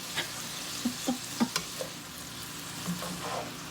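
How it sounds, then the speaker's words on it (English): Stir-fry vegetables and potatoes stirred in a pan under a soft sizzle, with a handful of distinct scraping and tapping strokes from the utensil, fairly quiet and close. "I'll stir it around and see how it looks."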